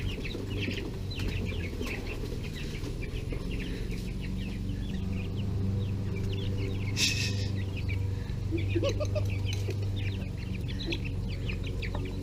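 Chickens cluck and murmur inside a new coop shared with other birds. Soft, scattered clucks repeat over a constant low hum for about twelve seconds, with one brief sharper burst partway through.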